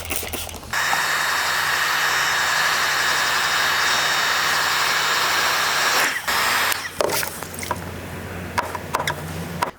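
A heat gun blows steadily and loudly while tint film is being applied to a 2014-2024 Toyota 4Runner taillight, as a continuous whooshing roar that drops out briefly near the end before resuming.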